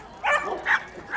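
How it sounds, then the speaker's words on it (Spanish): A dog at a canine exhibition gives two short yipping barks in quick succession, fairly close and moderately loud, with a third starting at the end. "ellos son perros como los que tenéis vosotros"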